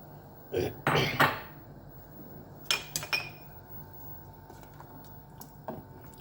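Boiled chickpeas are tipped into a simmering sauce in a pot for a garlic meatball stew. A cluster of wet squishes and clinks comes early, then a second, shorter group, all heard over a low background hum.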